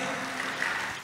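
A church congregation claps in a brief, dense burst of applause that fills the whole moment with no voices over it.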